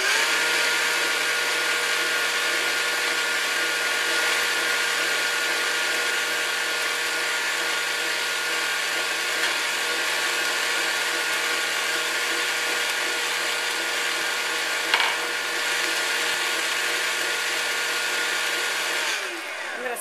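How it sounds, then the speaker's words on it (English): An electric mixer beats eggs into blueberry coffee cake batter, giving a steady, loud motor whir that runs almost unchanged for about twenty seconds before winding down at the end. "I'm going to add my eggs one at a time into the mixture and beat after each addition."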